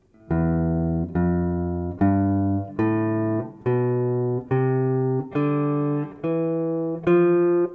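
Nine single guitar notes play at a slow, even pace, each ringing clearly before the next is plucked.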